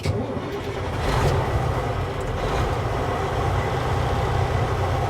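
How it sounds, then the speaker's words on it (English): A truck engine cranks and catches inside the cab, then settles into a loud, steady low rumble that fills the space, with no talking. "And then turn my truck on."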